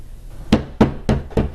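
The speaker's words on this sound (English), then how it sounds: "the incredibly light knock was pretty startling" Four light, evenly spaced knocks on a door in a film scene, crisp hollow taps about a quarter second apart, close and alone with no talk.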